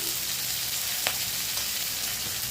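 Dried red chillies and cumin seeds sizzle and crackle in hot oil while tempering for chicken samosa filling, a steady close frying hiss with a sharp pop near the middle.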